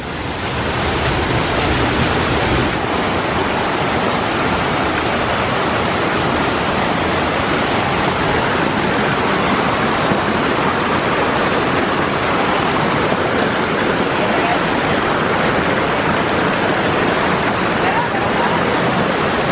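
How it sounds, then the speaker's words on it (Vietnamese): Waterfall deep in a forest roars as a loud, steady broadband rush that holds at constant level throughout, with no break or other clear sound standing out. "Gọi là thác bay nha mọi người."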